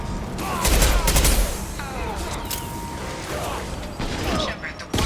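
An impact shot goes off in Mass Effect 2 as a heavy, loud burst, followed by mechanical clattering and scattered weapon fire with metallic, whirring tails. Voices are faintly mixed underneath.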